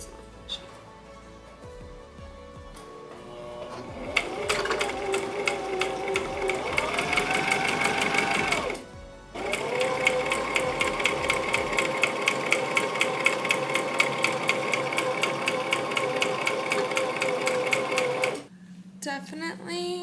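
A sewing machine stitches a half-inch elastic channel on an upcycled button-up and dress, its steady rapid needle chatter running in long bursts with a brief pause midway, close and loud before stopping near the end.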